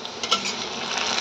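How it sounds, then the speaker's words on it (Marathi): Potatoes with ground green chilli sizzle as they are stir-fried in a pan. A steady, close hiss carries a faint utensil clink near the start. "परतून घेऊया एकदा"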